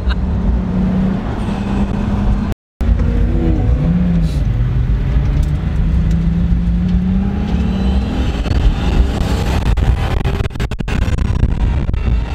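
A Koenigsegg Agera Phoenix accelerates hard, its engine note rising in pitch through the gears as a loud, continuous roar heard from inside the car, with a short dropout partway through.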